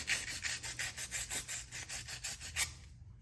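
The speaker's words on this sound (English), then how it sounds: "you're not trying to sand this off, you're just trying to scuff it up" Sandpaper scuffs back and forth over a fishing rod blank in about a dozen quick, rhythmic rasping strokes, close and alone before stopping.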